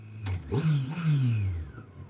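Yamaha FJR1300 motorcycle with stock exhaust, its engine revving up and easing off in a close, smooth rising and falling drone, heard alone without talk.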